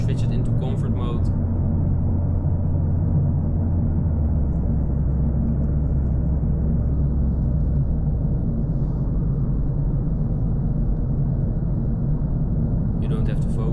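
A Mercedes-AMG A45 S 4MATIC with 421 hp cruises in comfort mode, giving a steady, loud low engine and road rumble throughout, with no talk over it.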